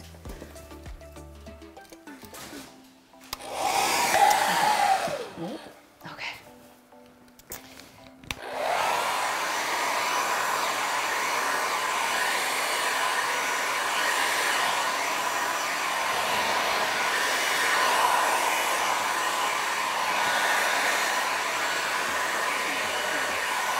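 A hair dryer blows air over poured resin paint, starting in short bursts and then running as a long, steady, close whooshing drone.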